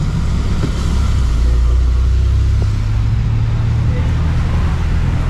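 A turbocharged car engine at a race track gives a loud, steady low rumble throughout, with a faint rise partway through, set against busy track ambience.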